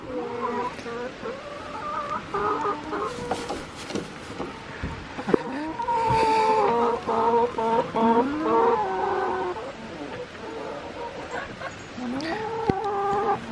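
Backyard hens clucking nearby while their eggs are collected, a busy, continuous chatter of overlapping clucks and squawks rising and falling throughout, loud and close.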